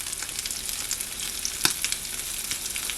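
Bacon grease sizzles and drains on a Dash Flex Press Grill, a steady close crackle with irregular spits and one sharper pop midway, no talking.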